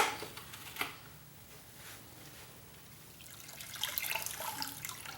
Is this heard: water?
yes